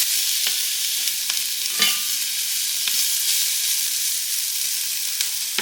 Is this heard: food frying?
yes